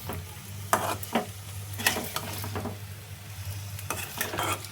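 Paneer curry is gently stirred in a sizzling pan, with several distinct spoon scrapes and knocks against the metal over a soft frying hiss and a low steady hum.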